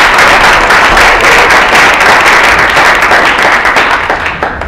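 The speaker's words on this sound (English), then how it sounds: "Give everybody a big round of applause." Loud, dense audience applause for panelists at a National Bar Association legal forum, a thick sustained roar of many hands clapping close by that begins to taper slightly near the end.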